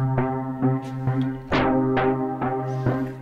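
Piano chords struck one after another, each ringing out harsh and buzzy through heavy distortion from Arturia's Efx Refract plugin, about six hits with sustained, fuzzy decay.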